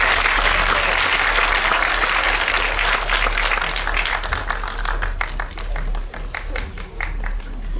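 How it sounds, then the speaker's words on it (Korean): Audience at a film screening Q&A for the Korean film Yadang bursts into loud, sustained applause, dense clapping filling the room for the whole stretch and thinning slightly toward the end. "오늘 긴 시간 함께 해주신 세 분께 큰 박수 드리면서 마무리하겠습니다."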